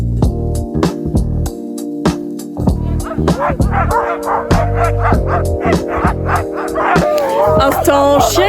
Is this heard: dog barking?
yes